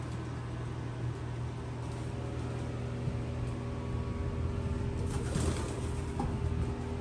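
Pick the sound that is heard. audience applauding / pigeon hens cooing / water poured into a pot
pigeon hens cooing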